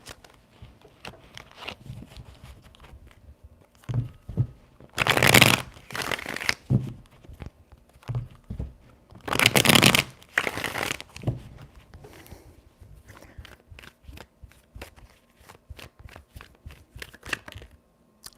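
Tarot cards being shuffled during an end-of-March 2022 reading, in three loud bursts of riffling near 5, 9.5 and 12 seconds, with softer card handling and taps between them.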